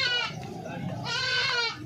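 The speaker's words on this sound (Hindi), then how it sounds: "अभी देखता हूँ कोई बकरी, कोई अच्छी बकरी आपको दिखाता हूँ" Goats at a livestock market bleat in rising, harmonic cries over a dense crowd murmur, with a second bleat following close after the first.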